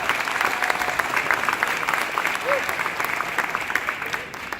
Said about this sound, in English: Applaud for them, right?